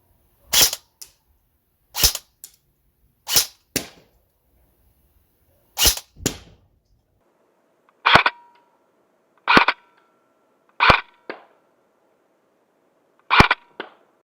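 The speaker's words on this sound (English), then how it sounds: "Now I'm at a different area and I'm shooting at approximately 60 feet again." A Nerf or airsoft gun fires at a target about 60 feet away, giving around nine sharp, dry pops at steady intervals of roughly a second or more, crisp and alone.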